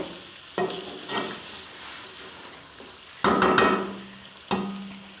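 Chicken and yogurt fry in a pan with a soft sizzle, punctuated by several distinct clattering stirs and knocks of a spoon against the pan.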